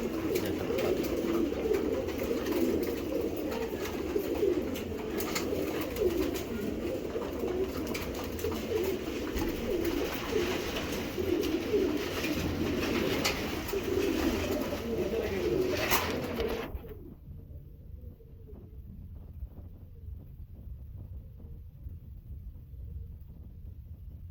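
Racing pigeons coo in repeated soft, throaty rolls for about seventeen seconds before the sound drops to a much quieter, muffled background.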